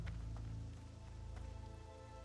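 Steady rain in the World of Warcraft video game, a soft continuous patter with a low background hum, faint and uninterrupted throughout.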